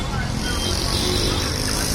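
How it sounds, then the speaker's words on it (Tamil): Dense traffic jam on Paper Mill road, a constant broadband roar of idling and creeping cars, motorcycles and heavier vehicles, close and unbroken throughout. "பேப்பர் மில் சாலையில் டிராஃபிக் ஜாம்."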